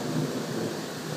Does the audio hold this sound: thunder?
yes